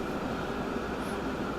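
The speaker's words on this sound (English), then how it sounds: "that's the train I'm using to try to trigger demand on the far southern route" A train rolls along steadily in the Transport Fever rail simulation game, a continuous even rumble at moderate distance with no talk over it.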